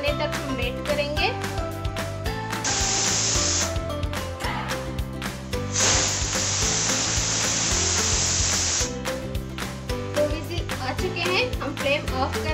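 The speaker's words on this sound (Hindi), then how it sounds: "2 whistles आने तक हम वेट करेंगे।" A pressure cooker cooking beetroot and egg sabji lets off two hissing whistles, a short burst and then a longer one of about three seconds, over steady background music.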